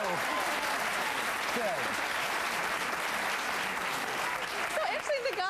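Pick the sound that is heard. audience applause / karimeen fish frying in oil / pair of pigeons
audience applause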